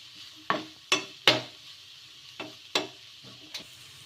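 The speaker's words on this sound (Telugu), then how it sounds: "ఇలా వేసుకొని కలిపేసుకుందాము" A spoon stirs turmeric into a wheat semolina (godhuma ravva) tiffin cooking in a pan, making six sharp scraping strokes in an irregular rhythm over a faint sizzle, close up, with no talk.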